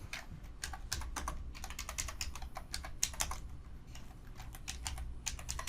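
Steady typing on a computer keyboard, quick close clicks of keys in uneven bursts over a faint low hum, with no talking.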